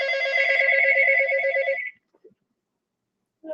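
Telephone ringing indoors, a loud warbling electronic ring lasting nearly two seconds, then silence and a faint brief sound at the end.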